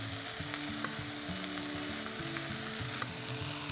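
Scrambled tofu fries in a hot pan, a dense continuous sizzle and crackle with faint scraping stirs, steady and close, with no talking.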